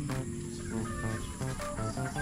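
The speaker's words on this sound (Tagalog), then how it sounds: "Uy, may aming manok pala." Chickens clucking nearby in short, repeated bursts against a steady background hum.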